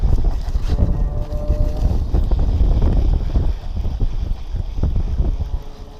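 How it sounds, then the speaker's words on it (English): Strong wind buffets the microphone on a lake during kayak fishing in Nebraska, a steady loud rumbling roar lasting the whole stretch with gusty swells and no voices. "The wind is ripping, as it has been all year"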